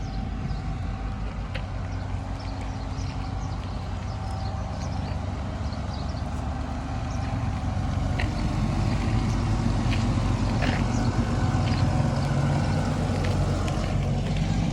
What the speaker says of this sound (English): You probably won't be able to hear me while this tractor crosses over